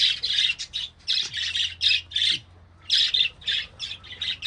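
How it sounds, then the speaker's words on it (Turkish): Birds in a small zoo aviary squawk in loud, rapid bursts, calling in a steady, repeated rhythm over a low background hum. "Bir de burada Radyoloji Kemal'in orada kuşlar var"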